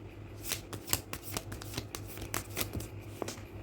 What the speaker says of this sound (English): Oh, I shouldn't have shuffled.